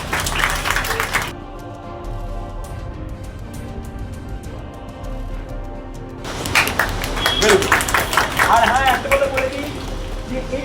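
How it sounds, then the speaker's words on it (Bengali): Audience clapping at a certificate ceremony at a youth computer academy branch in Rajarhat, loud scattered claps at the start and swelling again in the second half, with music-like tones and talk in between. "হাত তালিটা বন্ধ হবে না প্লিজ"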